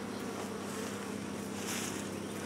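A dense, continuous drone of honeybees buzzing around a hive that has water placed in it, steady and close, with no voices.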